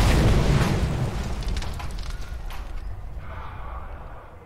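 Tanks blowing up in the Mad Max video game: a loud, rumbling blast that opens the clip and slowly fades into a lingering roar of fire and debris, with no voices over it.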